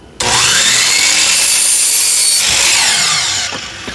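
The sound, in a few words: sawing wood pieces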